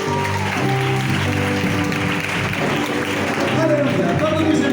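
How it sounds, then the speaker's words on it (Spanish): A congregation claps together during a Pentecostal church gathering in Usulután, El Salvador, steady sustained applause mixed with music tones and voices throughout. "Den un aplauso al Señor."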